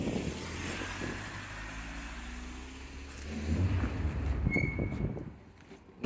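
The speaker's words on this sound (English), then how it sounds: "Twin turbo V8." A twin-turbo V8 engine in a Ford Capri rumbles low and steady nearby, then swells louder as it revs up before easing back.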